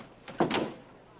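Door opening in a scene from the Western series Bonanza, a brief close creak and bump of the door swinging as someone walks in, over a quiet room background.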